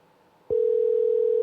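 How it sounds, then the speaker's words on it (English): A telephone tone sounds during an outgoing call, a single steady electronic tone that switches on abruptly after a short quiet moment and holds loud and unbroken. "Rick, I'm about to give you a call."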